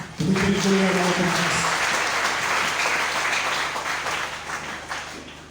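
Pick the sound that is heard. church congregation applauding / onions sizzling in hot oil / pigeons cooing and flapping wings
church congregation applauding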